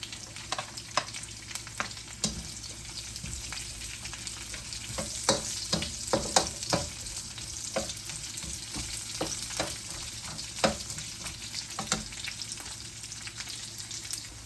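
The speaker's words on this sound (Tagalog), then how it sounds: "Ngayon naman ay magigisa po tayo ng bawang. Tapos, sibuyas." Garlic and then onion sautéing in a pan, a continuous moderate sizzle broken by frequent sharp scrapes and clicks of stirring, fairly close and without talking.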